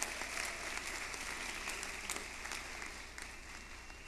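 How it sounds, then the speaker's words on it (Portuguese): An audience at a youth symphonic band concert applauds as Daiane stands to be recognised, a steady wash of many hands clapping at moderate distance throughout, without talk. "Você pode ficar em pé, Daiane, para receber aplausos?"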